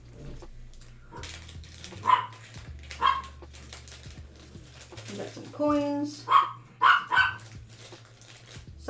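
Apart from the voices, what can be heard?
dog barking at cats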